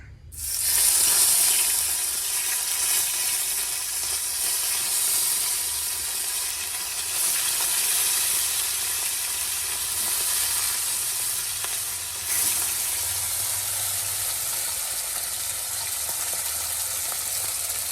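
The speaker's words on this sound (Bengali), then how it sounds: "এই মাছগুলো যখন ভাজা করব" Steady, loud sizzling of bata fish frying in hot oil, a continuous crackling hiss throughout with no talking.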